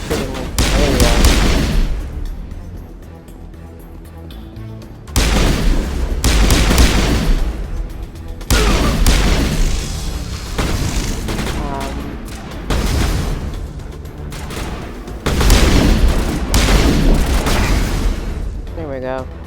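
Video game gunfire in a sci-fi shooter, repeated bursts and heavy booming shots in several loud volleys, broken by short gaps.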